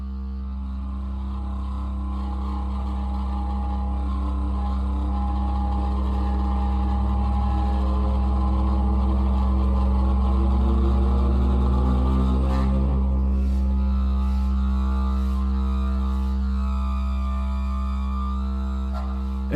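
Creepy saxophone drone from a film score, a sustained low, buzzing tone with layered harmonics that holds steady and swells slightly, joined by scattered higher clicks and fluttering overtones near the end.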